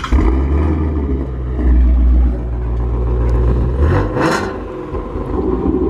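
A Ford Mustang GT350 engine runs, heard from outside the car as a loud, deep rumbling idle that swells with a couple of throttle blips and then settles back to a steady burble.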